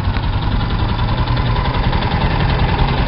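An Athensville 250 motorcycle engine idles steadily close by, a continuous low rumble with a fast, even pulsing beat and no pauses.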